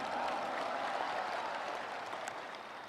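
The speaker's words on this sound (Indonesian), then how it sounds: "Kita berikan tepuk tangan untuk itu." Applause from the audience at an Indonesian NasDem party rally, a steady wash of many hands clapping that holds for about three seconds and eases slightly at the end, with no talking over it.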